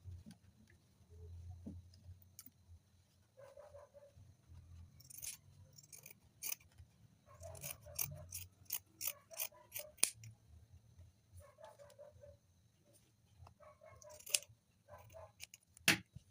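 Scissors snip around fabric while a push-up bra cup is trimmed, producing a quiet scattered series of short close cuts with soft handling rustle between them and no talking.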